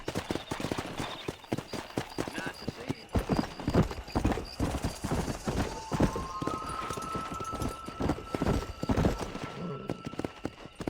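Horse galloping in the Red Dead Redemption video game, fast rhythmic hoofbeats close up, with a horse whinnying, a faint musical tone and a voice briefly heard over the steady gallop.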